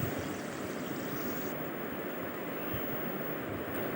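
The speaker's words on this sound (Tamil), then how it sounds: "ஒரு கடாயில் எண்ணெய் விட்டு மீடியமான ஹீட்டில் சிக்கனை பொரித்து எடுத்துக்கலாம்." Chicken 65 deep-frying in oil in a kadai over medium heat, a steady loud crackling sizzle that fills the whole stretch without pause.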